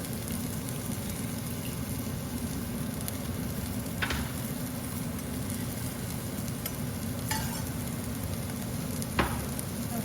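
Three garlic cloves sizzle in a pan with a steady, even crackling hiss, close and moderately loud, broken by a few brief sharper pops and scrapes, with no voices.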